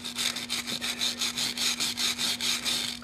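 A Linotype mouthpiece is scrubbed clean of dross in steady back-and-forth strokes, a close rhythmic rasping repeated about a dozen times over a faint low hum.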